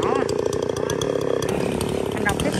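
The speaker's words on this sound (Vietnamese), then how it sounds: "tiếp tục cưa cây mụ kế bên" Chainsaw cutting through an old mu u (Calophyllum) tree in a garden at Cái Bè, running steadily and loud throughout with a busy, rasping engine texture and voices faintly underneath.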